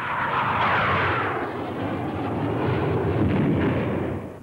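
An RAF Sepecat Jaguar jet flying past, a loud, close, sustained roar that swells, dips, then rises again before fading, with no talk.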